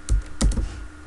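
A few quick keystrokes on a computer keyboard while Verilog code is entered in Xilinx ISE: about three sharp, close clicks in a short burst, then quiet, with no talking.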